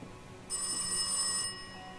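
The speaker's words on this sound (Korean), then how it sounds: "또 전화 왔어, 또 전화" A telephone rings once in a Korean horror video game, a bright electronic trill lasting about a second, close and clear over a quiet background.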